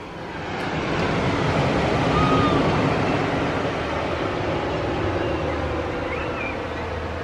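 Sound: sea waves heard through open windows

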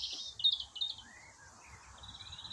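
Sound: greenfinches singing

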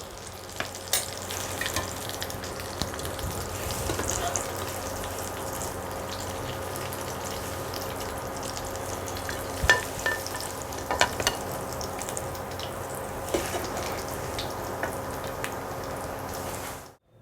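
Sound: mayonnaise egg chops frying in oil in a wok

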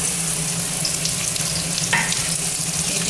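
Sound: cumin and chopped raw mango frying in mustard oil

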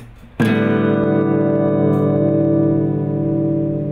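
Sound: guitar open strings strummed together

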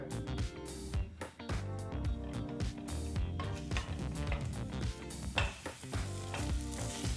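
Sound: capsicum frying in oil on medium flame

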